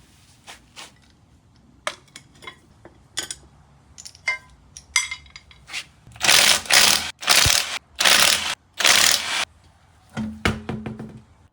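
A front wheel comes off a 2000 Toyota Aristo JZS161 with scattered metallic clicks and knocks, then several loud bursts of an impact wrench spinning lug nuts, followed by more clinks of parts being handled.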